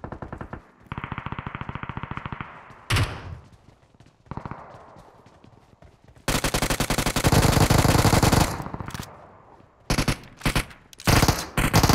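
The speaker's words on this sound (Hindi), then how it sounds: "भाई गोलियों की आवाजें सुनाई दे रही हैं।" Loud bursts of automatic gunfire in the battle royale game BGMI, with long sustained volleys and short rapid strings of shots, close and dominant throughout.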